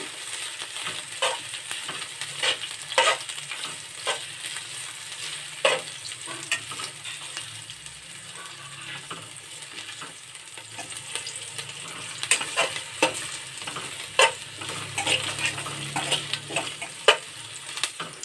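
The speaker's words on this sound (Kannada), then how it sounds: "ಈರುಳ್ಳಿ ಹಾಕಿಬಿಟ್ಟು ಈರುಳ್ಳಿನ ಕೆಂಪು ಫ್ರೈ ಮಾಡ್ಕೋಬೇಕು" Sliced onions sizzle and fry in hot oil in a kadai, with steady crackling broken by repeated scrapes and stirs of a utensil, close and moderately loud, no talking.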